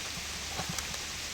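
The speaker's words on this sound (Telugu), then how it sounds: "unexpected rain is coming" Unexpected rain comes down while mushroom curry and biryani are being prepared, a faint, brief patter with a few soft drop taps standing out, with no talking.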